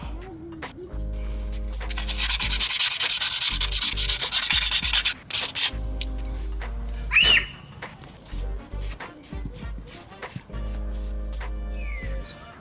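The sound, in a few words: cleaning corroded brake discs on a Jeep Cherokee XJ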